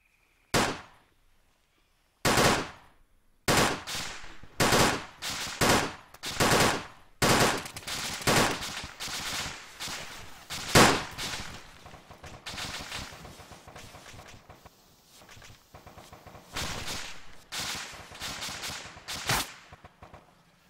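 Bursts of airsoft gunfire during a milsim player-versus-player game in a jungle setting, loud close volleys and rapid strings of shots separated by brief pauses, continuing in repeated clusters throughout.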